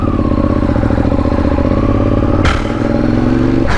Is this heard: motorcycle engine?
yes